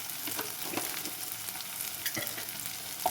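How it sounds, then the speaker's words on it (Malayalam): Shallots and curry leaves sauté in a hot pan for a fish curry, giving a steady, close crackling sizzle with occasional scraping stirs. "എന്നിട്ടൊന്ന് സോട്ട് ചെയ്ത് കൊടുക്കാം"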